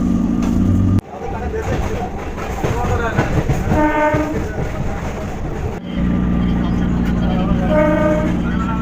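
A local train pulls into Barrackpore station in North 24 Parganas with a loud, continuous rumble, rhythmic wheel clatter and a horn-like tone, while a voice speaks over the din.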